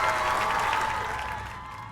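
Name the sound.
applause for a jug band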